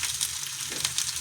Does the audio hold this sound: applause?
no